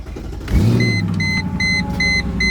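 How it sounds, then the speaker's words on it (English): A Mercedes ML55 AMG cold starts with a quick crank and a sudden catch, settling into a high, steady idle, while a repeating chime beeps in the background. "here's a cold start for you guys"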